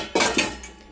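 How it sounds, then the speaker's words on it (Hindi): Cleaned metal tea pots come out of an IFB dishwasher, giving two close, bright clanks in quick succession that ring briefly as they fade, with no talk. "ये देखिए, ये भी चाय का ही बर्तन था"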